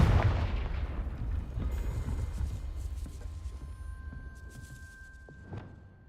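A Confringo fire spell blasts in Hogwarts Legacy, a loud booming burst at the start that rumbles and crackles away, followed by scattered debris clatter and a steady tone near the end.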